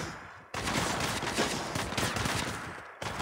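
Rapid, dense automatic gunfire from the mobile battle-royale shooter Apex Legends Mobile, a loud continuous burst lasting about two and a half seconds that starts and stops abruptly, with no voices.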